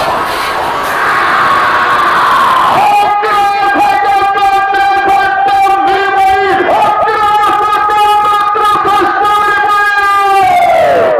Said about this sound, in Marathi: बारी पुकारताच घाटात गर्दीचा आवाज झाला